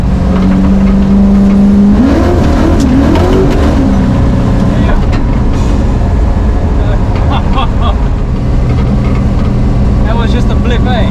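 A 1966 Pontiac GTO ProStreet muscle car with a 535ci big block engine roars loudly throughout, with a rising rev blip early on, while people talk over the engine noise.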